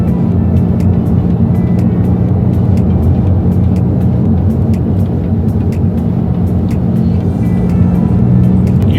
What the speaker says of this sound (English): You are low enough in this car where you do pick up some road noise. You can hear it with the tires especially